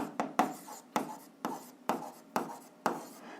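A pen or chalk writes an equation in quick strokes, about seven distinct scratchy bursts at a fairly regular pace, close and clear with no talking.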